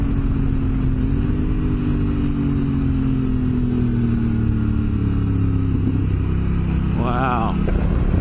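A Honda Africa Twin DCT motorcycle shifts gears while riding, its engine a steady mid-pitched drone whose tone drops slightly at each shift, under constant wind rush.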